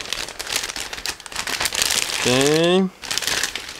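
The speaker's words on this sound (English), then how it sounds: "everything is packed into the same plastic bag. Just give me a second to open it" A plastic bag holding the gray sprues of an ICM 1/32 AH-1G Cobra Early model kit crinkles steadily as it is opened, with a brief spoken word over the rustling.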